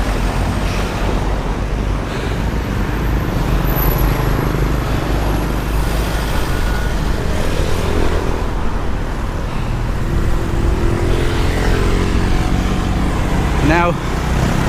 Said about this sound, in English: It's a bit noisy with the traffic